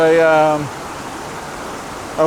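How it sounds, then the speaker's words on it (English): A stream spills in small cascades beneath a bridge, a steady broadband rushing hiss that follows a brief burst of voice at the start. "the stream, and there is a bit of a waterfall or cascades here"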